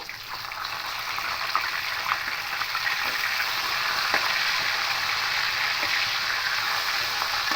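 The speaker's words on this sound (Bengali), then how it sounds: "একটু একটু হালকা বাদামি করে ভেজে নেব" Fish pieces fry in white oil in a wok with a continuous, moderately loud bubbling sizzle, close up and steady, dotted with small sharp spits and crackles.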